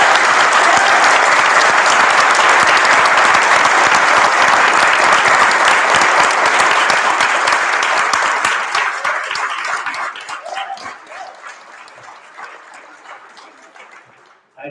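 Audience at a school board meeting bursts into loud, sustained applause that holds steady for several seconds, then thins into scattered claps and fades out.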